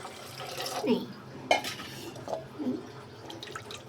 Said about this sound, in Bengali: এবার আমি পানি দিয়ে দিচ্ছি